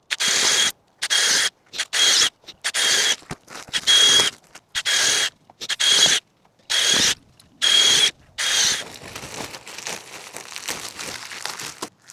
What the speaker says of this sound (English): Do you want to drill the holes and I'll plant behind you?